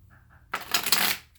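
A quick riffling flutter of tarot cards being shuffled, lasting under a second, close by after a moment of faint background.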